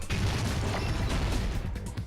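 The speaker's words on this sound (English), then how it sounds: "oh, the explosion" A video game explosion from Danganronpa 2 booms as a loud, sustained rumble with crackling bursts, fading slightly toward the end.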